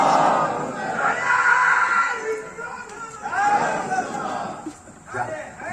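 Crowd at a religious gathering shouting slogans together in loud, sustained waves of voices, with a brief lull midway before another burst of collective shouting.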